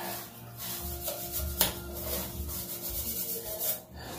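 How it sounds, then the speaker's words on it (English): Bottle brushes scrub the inside of a raw drinking horn, giving a steady, close rubbing and scraping that goes on without a break, with one sharp knock partway through. "scrub the crap out of it. Assorted bottle brushes will work."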